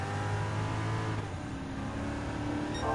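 Engine of a Porsche 911 Carrera RS Type 901 racing in Gran Turismo 7, a sustained buzzing drone that holds high, drops slightly, then rises again, with other cars faintly present.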